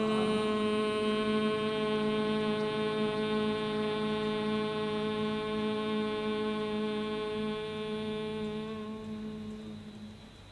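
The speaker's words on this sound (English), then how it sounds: "we'll do a humming sound, like hum, like that" A group hums a long, steady, droning tone during a yoga breathing exercise. The hum is held evenly for about nine seconds, then fades away.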